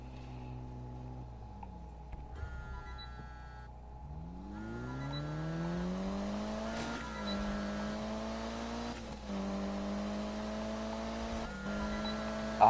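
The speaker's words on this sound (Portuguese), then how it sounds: "Olha o som desse carro." A car engine in Need for Speed (2015) revs upward in long rising sweeps, dropping and climbing again several times, with a steady low hum underneath.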